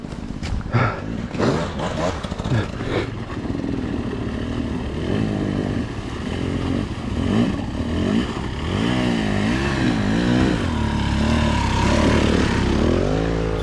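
A KTM motorcycle ridden through snow on an icy ride, the engine loud and close, revving and bogging with rising and falling pitch sweeps as the bike struggles forward.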